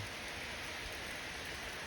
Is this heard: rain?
yes